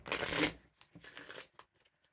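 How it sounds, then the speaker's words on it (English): Cards riffle in a quick burst, followed by softer shuffling and a few light taps, close and clear. "I'm going to be doing some shuffling and looking at the game board"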